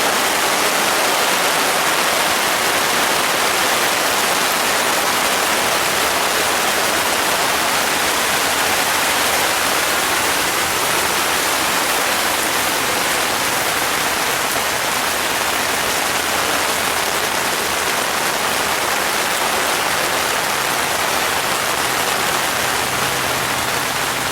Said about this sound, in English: let's just enjoy the rain in this waterproof tent.